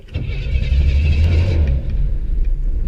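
A car engine cranks and catches, settling into a deep, loud rumbling idle close to the microphone for a few seconds, with no one speaking.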